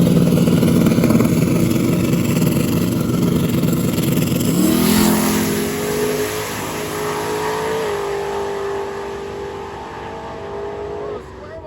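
An El Camino tiny-tire drag race car revs loudly and steadily, then launches with a rising, stepped engine roar that fades as it pulls away down the strip, with a voice talking over it.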